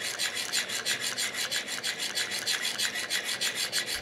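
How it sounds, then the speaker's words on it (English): A polished steel burnisher worked against a pivot of an antique Hamilton 992 pocket watch, driven by a pulley, makes a close, steady rasping scrape repeated in quick even strokes, about four per second, with nothing else audible. "I only move one hand, either pulling on the pulley or just pushing the burnisher."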